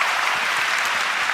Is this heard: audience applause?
yes